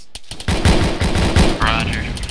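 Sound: gunfire in video game ARMA 3

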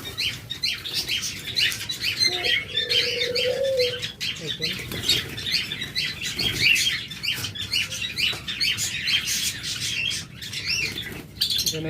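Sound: Java sparrows chirping in a colony

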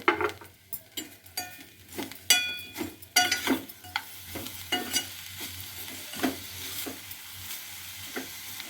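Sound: coconut and jaggery filling being stirred in pan

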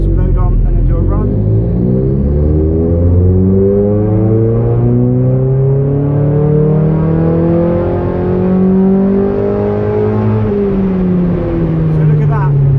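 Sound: Mazda MX5 engine revving under load on a dyno

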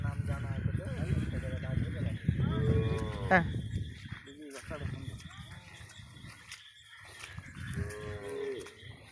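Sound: cattle mooing at a river-island cattle market

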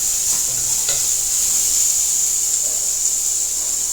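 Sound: stirring mango rasam with turmeric in a pan

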